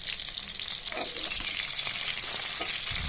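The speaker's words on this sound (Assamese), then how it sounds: "কেৰাহীটো গৰম হোৱাৰ পিছত তাৰপিছত দুকৰকৈ কটা পিঁয়াজখিনি মই ভাজি লৈছোঁ।" Chopped onions frying in hot refined oil in a kadhai make a loud, continuous sizzle with a bright crackling hiss, close by, with faint stirring scrapes underneath.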